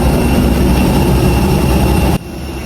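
Cabin noise aboard a passenger airplane on a flight from Laos: a loud, steady roar of jet engines that fills the clip, dropping slightly in level near the end, with no talk.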